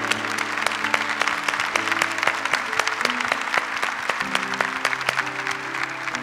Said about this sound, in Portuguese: Eu vou aplaudir também.